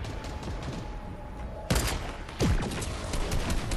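Gunfire in Fortnite is aimed at a UFO mothership: quick volleys of shots rattle over game noise, with two sharp, loud bursts landing partway through.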